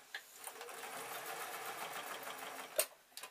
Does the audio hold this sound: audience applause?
no